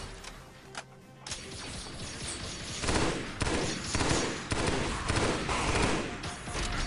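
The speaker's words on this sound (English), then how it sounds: "That's one of the carbines I was talking about." Rapid automatic weapon fire from the carbine in Halo: Combat Evolved (SPV3 mod), a dense, sustained burst of repeated shots with clanking mechanical game effects, loud and close throughout with no talking.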